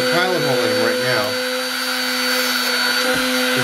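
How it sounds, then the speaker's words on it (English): A small drill bores pilot holes into mounting points on a homemade circuit board, a steady whining hum of a motor running close by with no talk over it. "I'm going to drill just a pilot hole in them right now."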